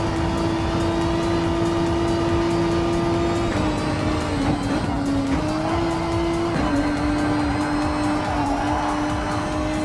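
A race car in the video game Gran Turismo Sport howls at high revs, its engine tone stepping through gear changes alongside bursts of tire squeal, loud and continuous with no talk.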